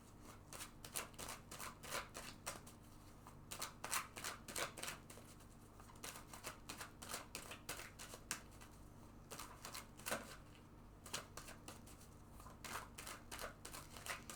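Tarot cards riffle and slap softly throughout, with repeated quick shuffling bursts and light card flicks at a steady, uneven rhythm, close and quiet with no talking.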